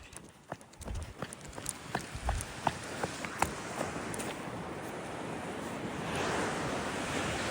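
Ocean waves wash in continuous broadband surf, rising toward the end, with scattered sharp clicks and knocks nearby, likely footsteps or handling, and wind buffeting the microphone outdoors.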